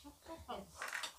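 Plates clatter faintly in a few quick knocks and scrapes as dishes are readied for a family Lebaran gathering in a Sundanese village, with a soft voice in the background.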